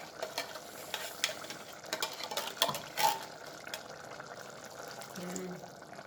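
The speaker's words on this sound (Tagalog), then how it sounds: "Yan, ilagyan ko po ng mainit na tubig." Hot water is poured into a pot of spaghetti meat sauce, followed by stirring and a soft sizzle, with scattered clinks of a spoon against the pot and light talk in the background.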